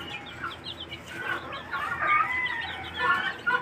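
Australorp hens clucking softly among chicks, with several short close clucks and chirpy cheeping calls overlapping in a lively farmyard chatter.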